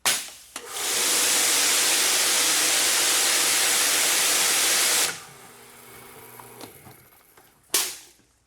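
A pressure washer during a flow test sprays water in a loud, steady hiss for about four seconds. The spray then stops, leaving a low machine hum with small clicks, and a brief second burst follows near the end.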